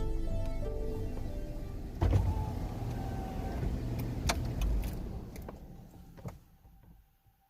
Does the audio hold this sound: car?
yes